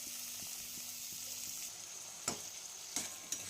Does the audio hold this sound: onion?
yes